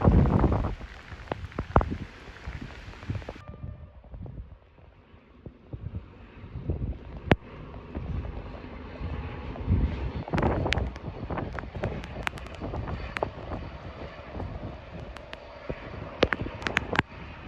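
Heavy rain with strong wind pours down at a railway station during a train shunting operation for train 778, a dense steady wash with gusty microphone buffeting and occasional sharp knocks and clatters, loud and continuous throughout without speech.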